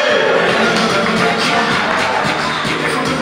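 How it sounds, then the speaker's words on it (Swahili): An audience at a secondary school form six graduation keeps up loud, continuous clapping and crowd noise for a student, a dense, steady wall of sound close by. "Makofi kwake."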